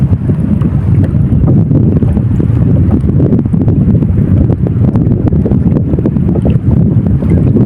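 Strong wind roars steadily across the microphone, a loud, continuous buffeting rumble with hints of water and waves underneath.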